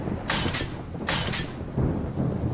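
Thunder in the survival video game 7 Days to Die, with two sharp, loud cracking bursts close together, followed by softer rumbling.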